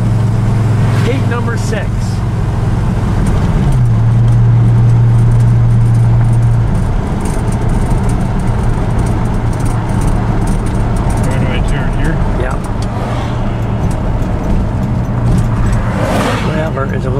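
Interior ride in a Chrysler 300J on the road toward Road America, with a steady low engine drone and road rumble throughout, shifting pitch as the car changes speed, while people talk over it.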